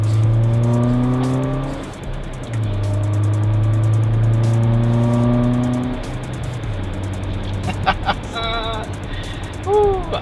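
A Mitsubishi car fitted with a short ram air intake revs up several times nearby, its loud engine rising and falling with a growling intake note, and a brief burst of higher squeals comes near the end.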